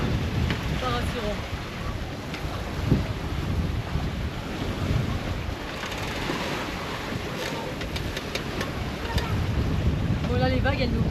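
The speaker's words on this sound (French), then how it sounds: "Le vent se lève les amis. Là on est bien. Il y a eu une grosse vague derrière au même moment." Steady wind rush and breaking waves surround a sailboat crossing the Atlantic from Gibraltar toward the Canary Islands, a dense loud wash of noise with water splashes throughout.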